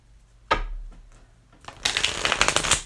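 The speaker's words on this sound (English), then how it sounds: "Trying to give it a really good shuffle in between each time" Tarot cards being shuffled by hand, a brief riffle near the start followed by a longer, louder run of crisp flapping and slapping card sounds close by, with no talk.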